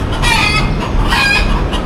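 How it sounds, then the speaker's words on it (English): Roosters crowing loudly and close by near a hotel in the Eastern Caribbean, over a constant rumbling noise, with overlapping calls and clucks but no talking. "And just found all these chickens. Roosters, I guess, technically."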